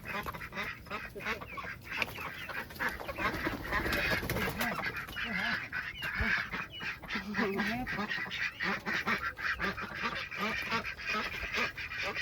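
Ducks and geese call and quack in a noisy flock while being fed in a park, a dense overlapping chorus of honks close by with rustling and some voices mixed in.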